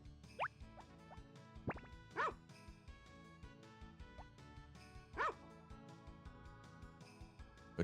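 A dog barks in the farming game Harvest Moon Back to Nature, a few short yips and woofs spaced apart over quiet, chiming game music.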